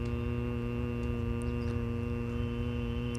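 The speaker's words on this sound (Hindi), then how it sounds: "पूरा ध्यान जो गुनगुन की आवाज़ हो रही है उस पर रखेंगे।" A steady, low, nasal humming drone from bhramari pranayama breathing, held unbroken and even throughout with no pauses.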